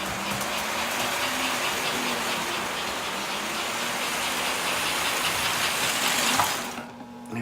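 Continuous whirring rumble of a small American Flyer 336 Union Pacific model locomotive running along a layout track, steady and close, cutting off near the end.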